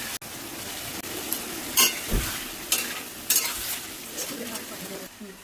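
Chopped tomatoes and washed goat meat are being stirred in a frying pan, giving a steady soft sizzle with intermittent scraping clinks of the spoon against the pan, close and moderately quiet, with no talking.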